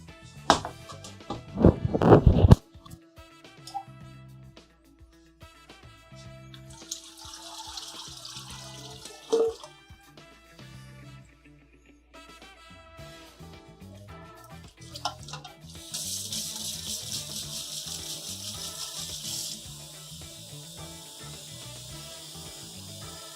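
Cold tap water runs in a kitchen sink over noodles for spring rolls, a steady splashing flow with clattering and handling noises, a burst of louder pouring early on and a brighter hiss of water later.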